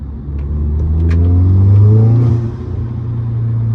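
Inside the cabin of an Audi S3 8V fitted with a Forge intake, the engine revs up loudly to a peak and drops back, then holds a strong, close rumble.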